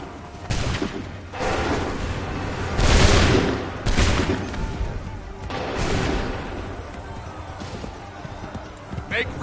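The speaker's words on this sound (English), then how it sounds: "Make ready! Fire now!" A volley of gunfire fired on command, heard as several loud, sharp blasts spaced a second or two apart. Shouted voices carry between the shots.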